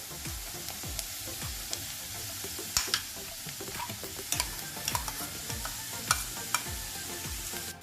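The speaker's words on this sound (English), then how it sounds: "Give this a mix and fry for 2 to 3 minutes" A ground stuffing mixture for bitter gourd, with chopped onions, is stirred and fried in a kadai, giving a steady sizzle broken by repeated close scrapes and clinks of the spoon against the pan.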